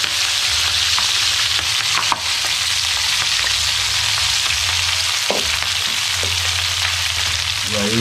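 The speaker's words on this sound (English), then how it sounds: "We have some stir fry vegetable, add a little bit of oil in the pot." Vegetables such as julienned carrot, tomato and cabbage stir-fry in oil in a pot, giving a steady, close sizzle with occasional scraping and clinking from stirring.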